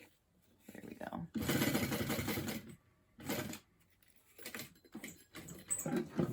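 A sewing machine back stitches a fabric bag in short, fairly loud bursts of rapid stitching separated by pauses, with a person talking between and over the runs.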